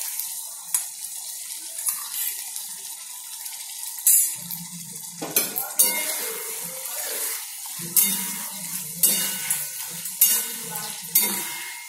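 Chili paneer is stirred gently in a pan, with irregular spoon scrapes and clatters against the metal, some watery, splashy bursts and a faint sizzle underneath.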